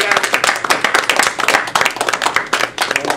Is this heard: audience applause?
yes